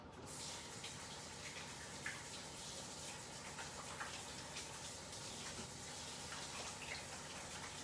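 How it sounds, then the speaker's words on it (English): Hands being washed under a running kitchen tap between shaping meatballs, a steady, faint rush of water flowing with light splashing throughout. "We wash my hands."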